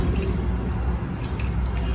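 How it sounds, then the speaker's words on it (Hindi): About a litre of water is poured into a pot of sautéed rice and vegetables for veg paneer pulao, making a steady, even splashing pour that runs throughout without a break. "अब हम पानी इसमें ऐड कर देंगे। तकरीबन 1 लीटर पानी हम इसमें ऐड कर देंगे।"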